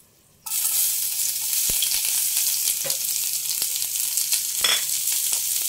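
Bay leaf, onion and garlic hit hot oil for khichuri, bursting into a loud, steady sizzle after a brief silence, with a few soft clinks of stirring scattered through the close, unbroken crackle.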